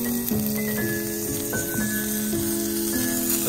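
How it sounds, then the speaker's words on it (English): Snow drops into hot cooking oil at a campsite on frozen Lake Winnipesaukee, New Hampshire, giving a continuous loud sizzle and frying hiss with repeated tonal squeals rising and falling over the top, close by and without talk. "the sizzling is the snow hitting the oil."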